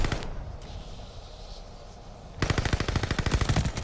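Automatic gunfire from a Call of Duty: Vanguard match played with a Marco 5 setup, a rapid, loud burst of shots that starts partway through after a quieter stretch of game ambience.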